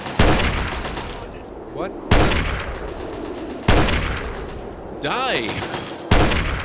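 Gunfire in the video game Fallout 3 cracks out in four sharp loud shots spaced about 1.5 seconds apart, with metallic ringing tails and a brief voice calling out between them.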